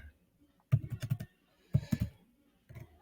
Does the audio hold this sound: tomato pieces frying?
no